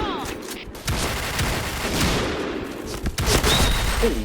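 A shotgun in a video game fires in a dense, loud burst of booming blasts that blur into continuous gunfire, with game effects and a voice faintly mixed underneath.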